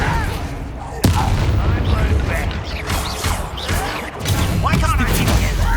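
A fire spell, Incendio, is cast during combat in Hogwarts Legacy, with loud bursts and impacts amid continuous battle effects, under a voice talking.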